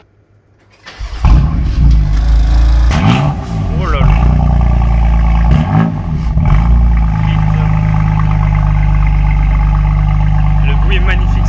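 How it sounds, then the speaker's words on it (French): A BMW sports car on its stock exhaust cranks and fires up in a showroom, then blips the throttle with a few loud revs before settling into a steady rumbling idle, close by, with a brief exclamation over it. "Échappement d'origine de chez BM, on vient de me dire."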